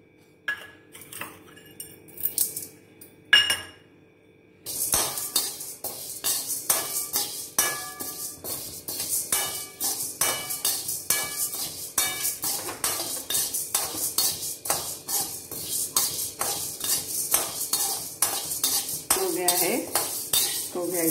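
Chana dal dry-roasting in a pan while being stirred, with repeated metallic scrapes and clinks of a spatula against the pan in a steady, close rhythm after a brief quieter start.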